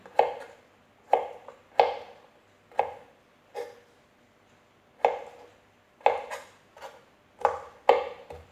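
Garlic being chopped with a knife on a cutting board for spaghetti: crisp, close knocks of the blade hitting the board, landing singly and in quick pairs at an uneven, steady pace, with no talk.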